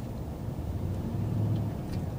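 A new pickup truck cruises along with a steady, low engine and road rumble from inside the cab, even and unbroken with no voices.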